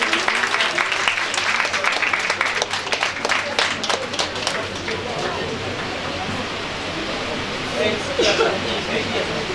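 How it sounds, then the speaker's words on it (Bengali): Audience applause at a college endowment prize distribution, a dense burst of clapping from a crowd that tapers into a softer sustained patter, with a voice speaking over it. "একটু হাততালি সবাই মিলে জোরে"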